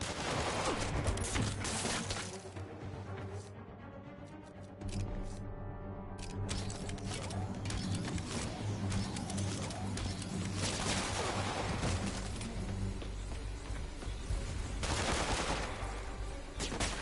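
Gunfire from armed enemies in a Spider-Man video game: dense bursts of shots and crashing impacts, loud and continuous across the fight, with a brief lull in the middle and a thick rumbling score underneath.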